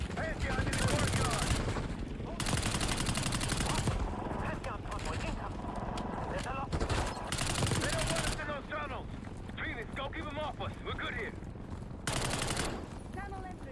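Adler firing in the Black Ops 6 campaign: sustained bursts of automatic gunfire, loud and close, coming in rapid repeated volleys with brief breaks, while a player talks over it.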